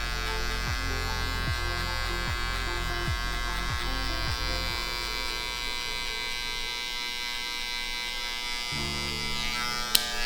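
Electric hair clippers running continuously close up while cutting a high skin fade, with a series of rhythmic clicks early on as the blade lever is adjusted, then a change in the motor's tone near the end.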